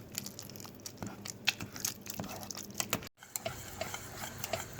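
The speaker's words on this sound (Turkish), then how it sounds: "Bir yemek kaşığı tereyağımızı, baharatlarımızı, karabiberimizi ve tuzumuzu ilave ediyoruz ve malzemelerimizi karıştırıyoruz." Purple mashed potatoes being stirred with butter, spices, black pepper and salt, giving close, irregular soft squelches and light scraping clicks that continue steadily throughout.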